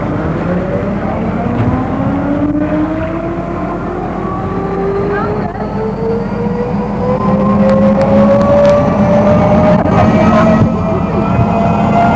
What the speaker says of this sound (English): A more rapid and exciting trip to Tenerife is made by the Boeing Jetfoil, which makes the crossing several times a day.